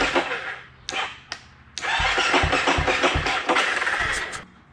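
A Honda CT70 minibike engine cranks repeatedly without catching, a rhythmic chugging of starter pulses after a few sharp clicks, nearby and moderately loud, trailing off as the attempt stops.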